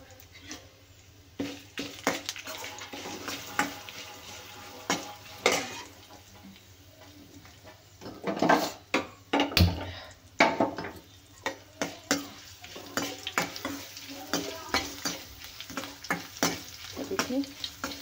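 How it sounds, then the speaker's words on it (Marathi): Curry leaves and red chillies with crushed garlic sizzling in hot tempering oil in a pan, a steady crackle broken by scraping stirs and clinks of a spoon against the pan. "तडका आहे आपला तयार."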